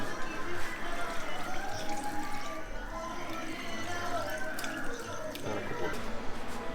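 Beef stew marinade made with Legend Extra Stout pouring into a pot, a steady close splashing trickle of liquid that runs throughout, with a voice speaking over it.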